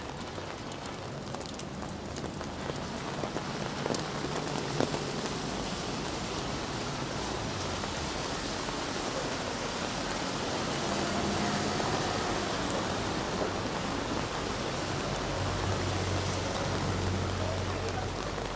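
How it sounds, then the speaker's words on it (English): Heavy rain pours steadily on a central London street in November, a dense, loud, continuous wash of noise close around the listener with no break across the whole stretch. "This is the heaviest it's rained since I've been here."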